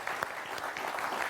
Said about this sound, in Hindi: जोरदार तालियां देश के युवाओं के लिए।